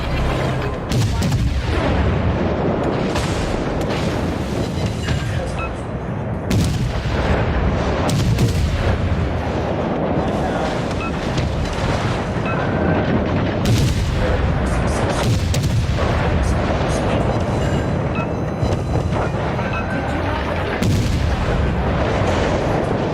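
Explosions as an enemy cruiser and fighter are destroyed in a space combat video game: a continuous, loud barrage of booming blasts and rapid cannon fire, dense and relentless throughout.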